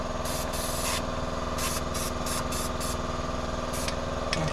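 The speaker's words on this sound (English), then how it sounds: "I like to spray the hub down real good here. And the backsplash too, or the backing plate." Rust protection spray hits the wheel hub and brake backing plate of a 2016 Scion tC during a front brake pad job. Roughly eight short, close hissing bursts, separated by brief pauses, sit over a steady background hum.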